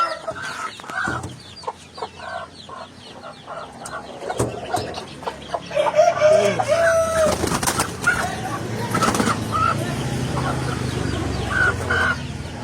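Chickens cluck and call around a flock of fighting-breed hens and their chicks in Indonesia, with busy overlapping bird sounds throughout, some louder close calls, and a rooster-like crow now and then.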